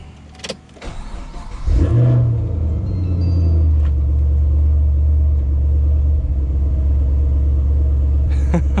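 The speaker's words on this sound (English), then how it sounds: "There's a little bit of rough idle. It's not nearly as bad as before." A 5th-generation Chevrolet Camaro SS V8 cranks and fires up after a throttle body replacement, then settles into a loud, deep, slightly rough idle rumbling steadily up close.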